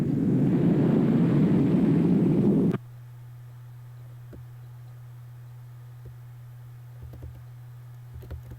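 A missile detonating from a compact silo in the Minecraft Voltz mod: a loud, dense roaring blast that cuts off abruptly, leaving a steady low hum with faint scattered clicks.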